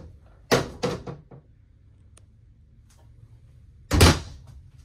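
A pocket door in a 2021 Merhow 4-horse living-quarters trailer slides along its track in a couple of quick rolling rushes with light knocks, then after a pause another louder slide ends in a thump.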